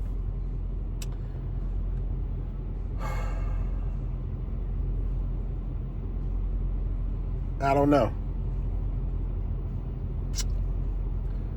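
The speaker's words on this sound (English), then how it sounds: "I've been having this truck running for about 20 minutes." A Ford F-250 work truck with an 8-foot bed idles steadily, a low continuous engine rumble running throughout while someone speaks briefly and a few faint clicks and bumps pass over it.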